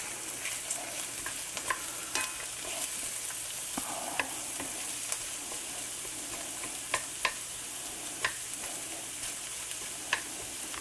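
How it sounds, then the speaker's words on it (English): Onions sauté in a pan for rabbit tinga tacos, a steady close sizzle with occasional utensil scrapes and clicks, heard on its own without speech. "We're going to let these onions saute down."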